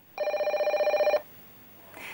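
A telephone bell rings once in a single continuous trill lasting about a second on a TV stock advice call-in show, loud and clear against a quiet studio backdrop, followed by silence.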